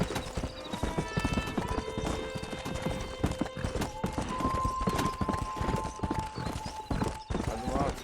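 Horse hooves clip-clop at a steady gallop in the video game Red Dead Redemption, continuous and close, with tonal game music and a brief whinny, while someone talks over it.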